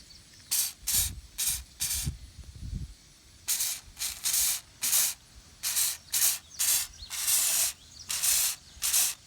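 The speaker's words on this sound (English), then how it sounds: "I'm going to put some WD on it and then wrap it until I get ready to put the disc on." WD-40 gel lubricant sprayed from a can onto an old disc harrow blade, a string of short sharp hissing bursts, about fifteen in quick irregular succession, close and alone with a few faint knocks early on.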